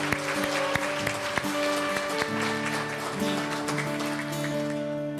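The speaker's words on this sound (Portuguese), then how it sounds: "Aplauda o Senhor com alegria" A church congregation claps during a celebration service, a dense continuous patter of many hands under sustained musical tones.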